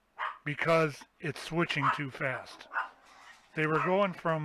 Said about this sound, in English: excuse the dogs there